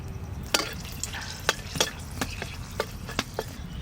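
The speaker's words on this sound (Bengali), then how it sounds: "আর একটু তেল দিচ্ছি, শুকনো লঙ্কা" Dried red chillies frying in oil in a pan, a soft steady crackle with scattered sharp pops and ticks, close and moderately quiet, no voices.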